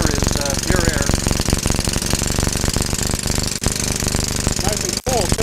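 Hydrogen-fuelled engine running loud and steady with a rapid pounding knock throughout, a brief dip near the end, and voices under it.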